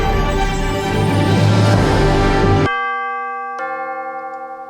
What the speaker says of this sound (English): Right now it sounds like a doorbell.